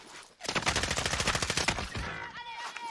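A fast, close burst of automatic gunfire in Call of Duty: Warzone, about a dozen evenly spaced shots over roughly a second and a half, followed by quieter in-game sounds.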